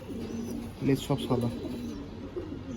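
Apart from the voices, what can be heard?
Majra Shakdam pigeon cooing in loft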